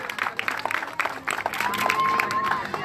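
Audience applause at a kite festival on Cerro de la Estrella, steady scattered clapping with crowd noise mixed under ongoing announcer speech.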